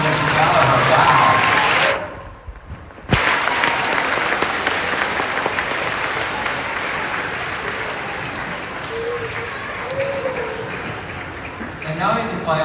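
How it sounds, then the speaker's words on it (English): A school Veterans Day assembly crowd applauds the honor guard in a loud, continuous roar of many hands that drops out briefly, then resumes strongly and carries on to the end. "Round of applause for the honor guard and for Mr."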